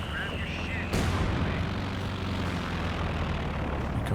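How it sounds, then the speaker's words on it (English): Recon plane flying over a Company of Heroes 2 battle, a steady engine drone that grows fuller and louder after a sharp onset about a second in, running under ongoing battlefield noise. "Recon plane up in the air."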